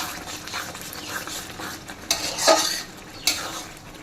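Washed chicken pieces go into frying spice paste for a chicken curry, with a spoon stirring and scraping the pan in a few clattering bursts over a soft sizzle.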